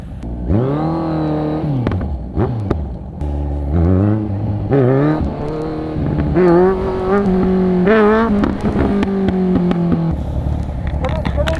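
A Kawasaki Z1000 motorcycle engine revs and pulls through the gears while riding, rising and falling in pitch with several shifts, loud and near, with a rider speaking over it.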